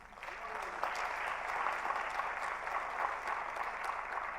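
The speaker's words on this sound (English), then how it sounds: "An applause for Mr." Conference audience at a climate innovation event applauds, a fairly faint, distant but sustained wash of many hands clapping evenly, with crowd noise and a little voice mixed in beneath.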